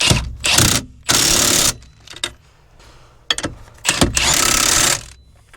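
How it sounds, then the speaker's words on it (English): An impact wrench tightening the bolts on a wheel bearing hub of a 2004 Chevy Impala: loud, close bursts of rapid hammering, each lasting about half a second to a second, separated by brief pauses and clicks. "I'm just going to put it on with the impact"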